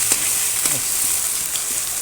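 Steady sizzling of an egg frying in a pan, a continuous crackling hiss with a few sharper pops, close and fairly loud, no talking.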